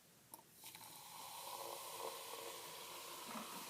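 Baking soda and vinegar react in a soft, steady fizz and hiss that begins with a few small clinks and then holds at a faint, even level.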